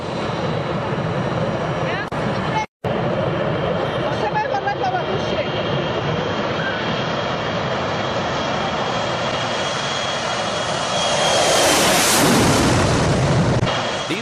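An airplane roars through a very low takeoff, its engine noise loud and sustained, swelling near the end as it passes close, with a brief cut partway through.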